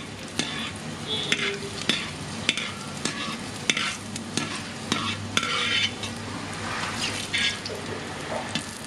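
Cashews and raisins fry in hot oil for chicken biryani, a steady bubbling sizzle broken by regular sharp scrapes and clinks of a spoon stirring against the pan, up close with no talk.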